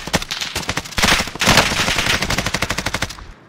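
Rapid automatic gunfire in a Call of Duty match, dense bursts of close, loud shots rattling off in quick succession for a few seconds before cutting out.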